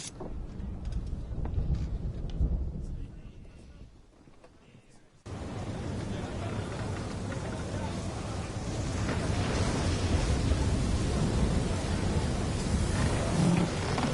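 Stormy sea in the Assassin's Creed III game, a roaring wash of wind and crashing water that drops briefly, then surges back as a loud, steady storm roar.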